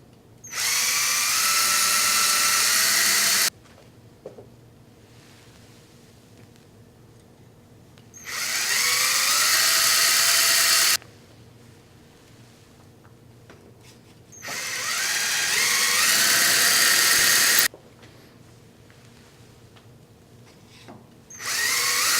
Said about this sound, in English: Okay, so let's drill those holes.